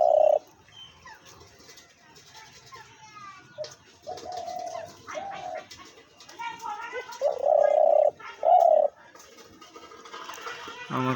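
A tame spotted dove (ghughu) kept as a hunting decoy coos in short, clear, repeated phrases close by, with someone talking in between the calls.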